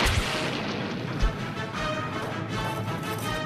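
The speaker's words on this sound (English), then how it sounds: "Let's see how he likes my new shock blast cannon." Booming blast effect from a Transformers toy shock blast cannon, several heavy low thuds over a dense crackling roar, loud and close with no talk.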